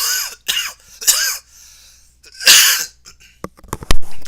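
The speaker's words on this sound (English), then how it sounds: "hold on, I have to cough" A person coughs several times in short bursts, then clears the throat harshly, close and loud, with a few smaller coughs at the end.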